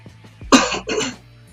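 A person coughs close by, one harsh double cough with a throat-clearing quality, alone and loud.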